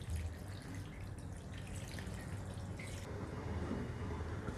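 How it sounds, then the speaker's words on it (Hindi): Cold water poured over drained spaghetti in a kitchen, a soft continuous splashing trickle, faint and steady throughout. "स्पगेटी को छान लेने के बाद हम इस पर ठंडा पानी ऐड कर देंगे"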